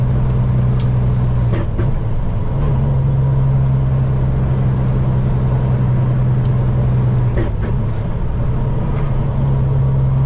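A loaded propane delivery truck climbs a hill with a heavy, steady diesel drone, the pitch dropping briefly at a couple of downshifts, heard loud from the cab.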